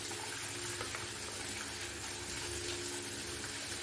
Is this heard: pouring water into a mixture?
yes